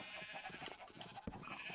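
Faint sheep bleats in the video game Minecraft, a few short wavering calls against quiet game background.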